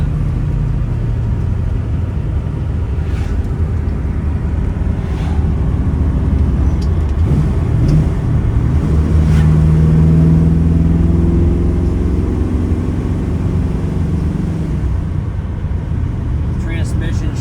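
The steady low engine drone of a restored 1969 Chevy Nova with a 383 stroker V8 and five-speed manual, heard from inside while cruising, with a person talking over the rumble.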